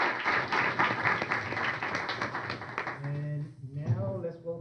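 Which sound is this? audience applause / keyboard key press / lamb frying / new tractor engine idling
audience applause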